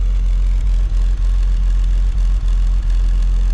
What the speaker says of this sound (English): these inline sixes sound amazing in the rear